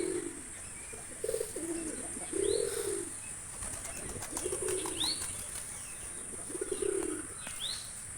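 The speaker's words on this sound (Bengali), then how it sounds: "এটা জালালি কবিতর তো ধান খাচ্ছে" Jalali pigeons feeding on paddy grain coo in soft repeated low phrases, with a brief flutter of wings, occasional chirps and a steady high hiss in the background.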